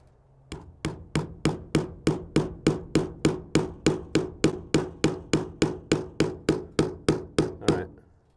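Steady hammer blows strike nails into wood, about twenty evenly spaced sharp knocks, close and clear with no voices.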